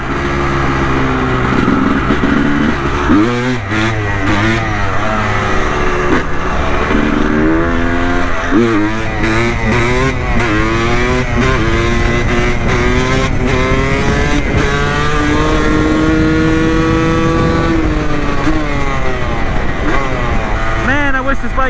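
A motorcycle with a rattling exhaust pipe and only five gears rides close and loud. Its engine note repeatedly climbs and drops through revs and gear changes without letting up, while someone talks over it.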